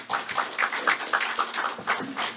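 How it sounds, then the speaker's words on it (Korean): An audience at a Korean-American campaign launch rally for a California state senate candidate claps to welcome a speaker, a brisk run of close, bright handclaps lasting a couple of seconds without speech. "박수로 환영하겠습니다."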